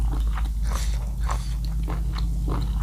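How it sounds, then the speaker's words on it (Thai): Close, crisp crunching bites and chewing of spicy Thai papaya salad with squid, shrimp and rice noodles, with several loud crunches in quick succession and no speech. "อืมกรุบกรุบกรุบดีค่ะ"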